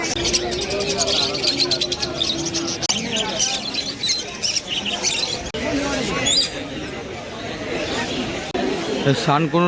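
Birds chirping and cooing at a crowded Kolkata bird market on Gallif Street, with pigeons among the caged stock; dense overlapping tweets and calls run throughout while someone talks close by.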